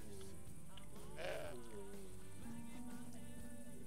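Goat bleating in the video game Broken Sword 5, a single wavering bleat rising out of soft game ambience with a low background hum and light rain-like patter.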